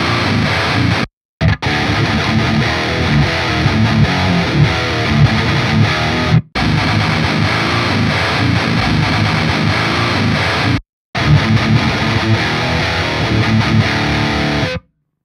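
A heavily distorted electric guitar tone plays loud and dense, cut by three brief silent gaps, with no voices present.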